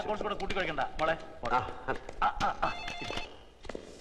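A telephone rings indoors, its bell pulsing in short repeated bursts while people talk over it throughout.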